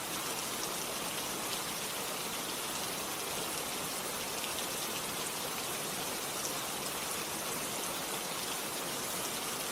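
Steady, even rain falls without pause as a dense, continuous hiss of drops, with no voices or other sounds over it.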